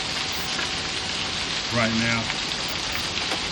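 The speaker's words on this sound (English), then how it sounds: "It's really, it's raining really hard" Heavy rain pours steadily during a June hailstorm with tennis-ball-sized hail in Arlington, Texas, a dense, continuous hiss of drops on surfaces, with a voice speaking briefly over it.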